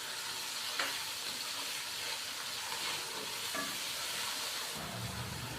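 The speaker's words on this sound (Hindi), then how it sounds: "टमाटर को अच्छे तरीके से मिक्स करेंगे।" Finely chopped tomato stirred into masala frying in a pan for a bottle gourd curry, a steady soft sizzle and hiss with faint scraping of the spoon throughout.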